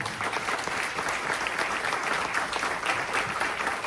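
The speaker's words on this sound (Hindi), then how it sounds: "आए इन सब के लिए हम ताली बजाएं" An audience at a ministry play applauds, with dense, even clapping from many hands filling the whole stretch without pause.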